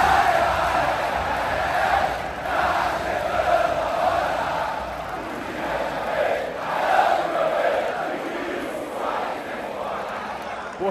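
Botafogo supporters chant in a football stadium during a match against Grêmio, a broad, rising and falling crowd roar heard from a distance, sustained throughout without clear individual voices.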